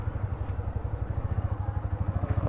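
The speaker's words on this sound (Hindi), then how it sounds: "अब हम ज़रा बाइक अंदर पार्क करते हैं" A motorcycle engine idles nearby with a steady, low rhythmic putter, as the bike is parked outside a historic fort.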